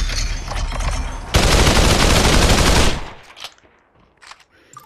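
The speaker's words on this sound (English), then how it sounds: "I'm getting shot by." Loud automatic gunfire in the VR shooter Population: One, a dense sustained burst of rapid shots that cuts off abruptly, followed by quieter scattered game sounds.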